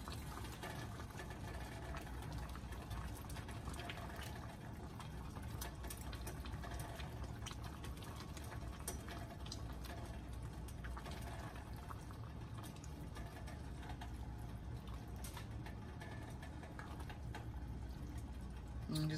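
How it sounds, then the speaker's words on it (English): Chicken and dumplings simmer in a pot on low heat, giving a steady, close bubbling and watery hiss that runs unbroken for the whole stretch. "Now we'll put it on a low and just let it simmer"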